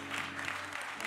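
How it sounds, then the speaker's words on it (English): A church congregation claps during praise and worship, with a brief, soft burst of rhythmic hand clapping heard from a distance. "Give the Lord a clap offering."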